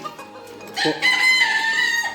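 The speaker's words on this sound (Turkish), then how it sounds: "İşte bu adı üstünde horoz." A rooster crows loudly and close by, one long drawn-out call rising over faint background clucking.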